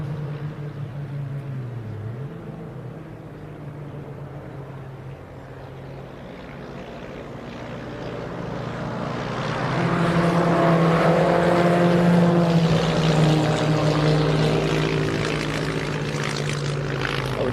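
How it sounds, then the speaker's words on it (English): A small propeller plane passes overhead during qualifying at a motor-racing circuit, its droning engine swelling to a steady, loud peak midway through and lingering without fading. "Oh, just had a little plane go overhead as well,"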